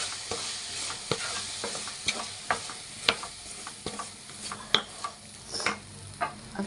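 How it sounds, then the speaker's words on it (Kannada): Ground masala for brinjal gojju stirs and fries in a hot pan, a steady soft sizzle broken by repeated sharp scraping strokes of a spoon against the pan, close and clear with no voices. "ಇದು ರುಬ್ಬಿರೋ ಮಸಾಲ, ಇದನ್ನು ಇದ್ರೊಳಗಡೆ ಹಾಕ್ತಾಯಿದ್ದೀನಿ ಫ್ರೆಂಡ್ಸ್."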